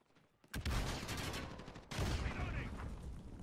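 Rapid bursts of gunfire in a shooting video game crackle almost nonstop, with a fresh loud volley starting partway through, under a dense, busy mix.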